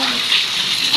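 Floodwater pours into a house through its walls during a storm, a steady broad gushing rush of water heard up close and loud throughout.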